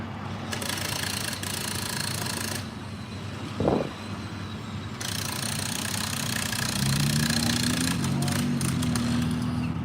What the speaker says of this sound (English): Okay, we're doing another drilling up here.